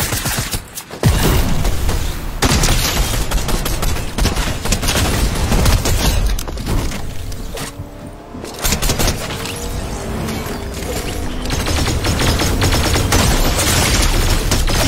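Rapid, dense bursts of gunfire from a video game, loud and continuous across the whole stretch, with heavy booming shots layered together and brief lulls between volleys.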